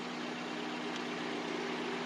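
A 1996 Toyota Corolla engine idles steadily with a constant low hum and broadband wash, even and unchanging throughout, with no voices.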